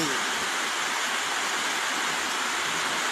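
Steady, dense hiss of rainfall filling the air, constant and even throughout with no breaks, like a downpour heard from nearby.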